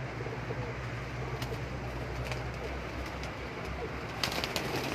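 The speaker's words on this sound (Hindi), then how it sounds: "ये मेरे बड़े प्यार वाले कबूतर हैं।" Pigeons on a rooftop loft, cooing softly and continuously at moderate distance against steady background noise, with a few faint brief clicks near the end.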